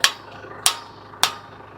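Three sharp, ringing hammer strikes on metal, evenly spaced and close, each decaying quickly into near quiet.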